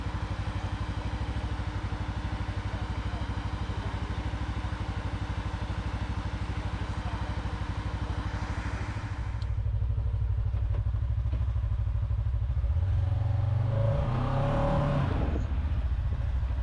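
An off-road vehicle's engine revs and clatters loudly in rocky creek-canyon terrain near Bartlett Lake, steady through the first half, then surging and rising in pitch as it bounces free of the rocks; no one speaks.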